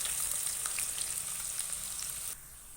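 Onions frying in oil and ghee for beef korma give a dense, steady, hissing sizzle close by, with a few light pops, easing slightly near the end.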